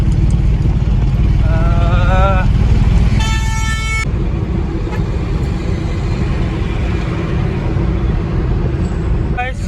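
Heavy road traffic of cars and motorcycles on the Koyambedu flyover in Chennai makes a loud, constant engine roar. Two sharp horn honks sound near the start, one of them long and blaring.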